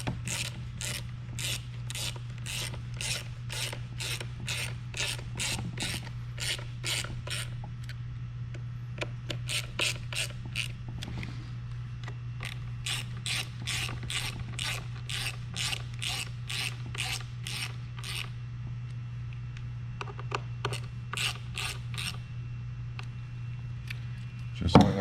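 A ratchet wrench clicks in rapid repeated bursts while snugging up the nuts on a Onewheel XR tire, close and crisp over a low steady hum, alone without speech.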